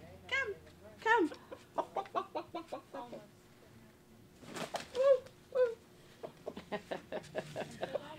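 Backyard chickens cluck and squawk in short repeated bursts close by, mixed with a person talking nearby.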